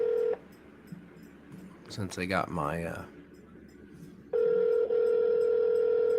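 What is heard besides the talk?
telephone call line sounds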